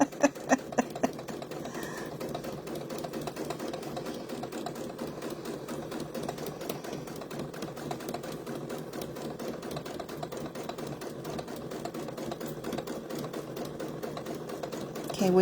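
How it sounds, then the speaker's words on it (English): A sewing machine stitches fabric for a KitchenAid mixer bowl cover and a scrunchie, running in a fast, steady, even needle rhythm for the whole stretch at close range. "I like hearing a sewing machine too."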